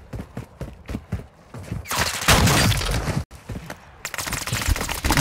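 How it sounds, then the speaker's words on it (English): Shotgun blasts in the online shooter Call of Duty DMZ come as a few loud, sharp bursts with ringing tails after a quick run of clicking taps. "you hit me with a shotgun from there?"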